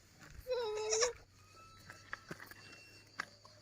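A single young goat kid's bleat rings out close by in a village, a wavering cry about half a second long, followed by quiet rustling and light footsteps.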